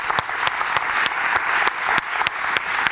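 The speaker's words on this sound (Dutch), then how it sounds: "Geef hun nog even een groot applaus." An audience at a Dutch panel debate on tuna applauds in a big, steady burst of clapping. It is loud and dense, with a few sharper individual claps standing out.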